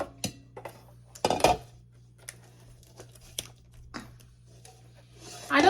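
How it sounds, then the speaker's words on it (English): A cookware lid is handled during unboxing, giving a few sharp clinks and knocks close by with soft rustling of packaging between them, and a voice speaking briefly. "so this is just a lid."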